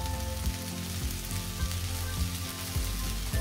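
Garlic and onions frying together in hot oil in a pan, a steady close sizzle with soft stirring bumps recurring every second or so, no voices over it.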